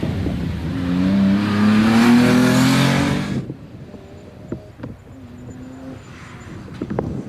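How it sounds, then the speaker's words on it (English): Porsche 911 Carrera 3 litre race car roars loudly past at a hillclimb, engine note rising and then cutting off sharply after about three seconds, followed by faint distant engine noise. "He'll be followed by Geraint Evans in the Porsche Carrera 3 litre, another stunning looking Porsche"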